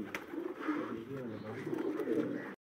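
Breeder low flyer pigeons coo softly in a cage, a low, repeated rolling murmur continuing for a couple of seconds before stopping abruptly.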